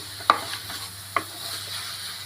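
Coriander masala for Kerala beef curry fries in a pan with a low hiss, while a spoon knocks and scrapes against the pan twice, close and fairly quiet.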